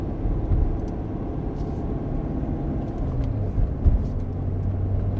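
A C7 Corvette engine in quiet touring mode hums low and steady from inside the cabin, subdued and smooth, with faint road rumble and no voices.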